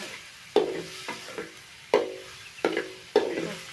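Pork frying in a pan is stirred with a utensil, giving five distinct scraping strokes at an uneven pace over a steady close sizzle, with no voices.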